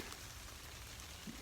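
Steady rain falling outdoors, a continuous soft hiss of drops on surfaces that holds evenly throughout, fairly faint with no voices.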